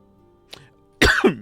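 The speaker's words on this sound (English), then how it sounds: "That was a weird cough." A single sharp cough, close and loud, comes after a faint throaty sound during a mage game session, with no talk.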